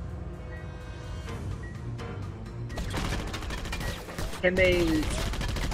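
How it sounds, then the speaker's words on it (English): Rapid bursts of sentry gun gunfire in the video game Just Cause 2, growing louder and denser midway, with a sharp whistling effect near the end and a brief spoken remark over the action. "these sentry guns that will tear you to pieces really fast"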